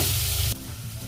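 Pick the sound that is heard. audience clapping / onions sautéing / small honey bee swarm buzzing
onions sautéing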